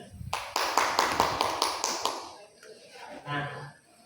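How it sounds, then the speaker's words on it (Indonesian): Classmates in a classroom give a short burst of clapping, several rhythmic synchronized claps for about two seconds, then it trails off into a quiet pause before a voice speaks. "Tepuk tangan dulu teman-teman."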